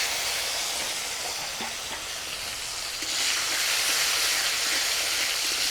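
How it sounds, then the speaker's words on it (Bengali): Chopped tomato goes into hot oil just after a cumin tempering, making a broad, steady hiss that swells louder partway through, close up and continuous with no voices. "ফোড়নটা ভাজা হয়ে গেছে দিয়ে দিব টমেটো কুচি"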